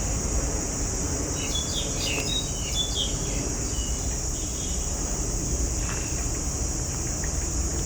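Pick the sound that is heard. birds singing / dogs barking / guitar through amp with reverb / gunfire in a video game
birds singing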